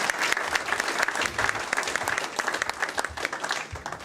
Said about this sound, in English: So we owe a big round of applause also for Susie.